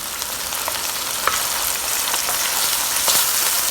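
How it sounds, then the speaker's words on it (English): Bay leaf and curry leaves crackle and sizzle loudly in hot oil in a Le Creuset 7.5-quart soup pot, a dense, even frying hiss with scattered pops and light stirring, and no speech. "now I'm going to add my bay leaf and curry leaves"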